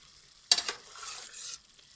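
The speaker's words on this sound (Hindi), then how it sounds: "इसको भी हम अच्छी तरह से मिक्स कर लेंगे और खूब इसको भूनेंगे हम" Chicken being stirred and fried with ginger-garlic paste in butter, a sharp scrape of the spoon followed by a short burst of sizzling that fades after about a second.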